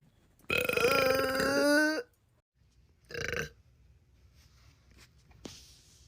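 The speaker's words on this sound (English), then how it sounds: "They be like, you dirty for burping." A girl lets out a long, loud burp that rises in pitch, followed by a shorter second burp, then quiet room sound with a faint click.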